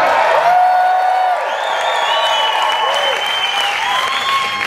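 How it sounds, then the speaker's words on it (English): A comedy show crowd on a cruise bursts into sustained applause mixed with a few whoops and cheers, steady and full throughout. "Applause if you didn't make it."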